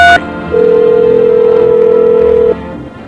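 Telephone tones in a video game's phone-roulette feature: a short beep, then one steady electronic tone held for about two seconds before cutting off, loud and alone.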